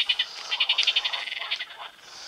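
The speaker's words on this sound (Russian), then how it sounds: "Лягушка." A frog croaks in a quick pulsing series of rasping calls, close and fairly loud, fading out after about two seconds, with no talk over it.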